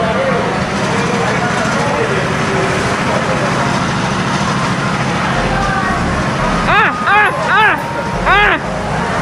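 Go-kart engines at a night karting session, a constant loud mechanical drone with sharp squealing bursts near the end, under the hubbub of voices.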